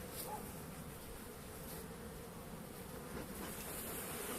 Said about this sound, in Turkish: Bakın maskeye nasıl saldırıyor görüyor musunuz?